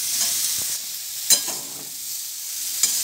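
Soybean chunks coated with salt and turmeric fry in hot oil with a steady close sizzle, broken by a few sharp scrapes and clinks of a spatula stirring the pan.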